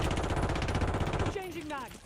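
Rapid automatic gunfire in a video game rattles loudly for over a second, then cuts off as a voice speaks briefly.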